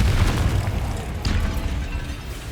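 In the video game Hogwarts Legacy, a Confringo spell explosion lands as a deep rumbling boom that fills the space and then a second muffled blast rolls out, loud and close.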